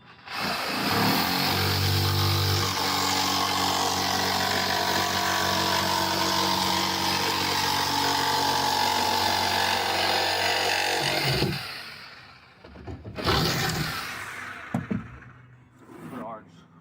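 A power tool, likely a saw, trims a wooden arch for a dog house, running loud and steady for about eleven seconds before cutting out, followed by short bursts of work noise.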